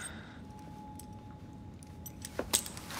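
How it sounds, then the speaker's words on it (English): Keys are handed over in the video game Assassin's Creed Syndicate, heard as a short, quiet metallic jingle of a few light clinks near the end of an otherwise hushed moment. "Now hand over your keys."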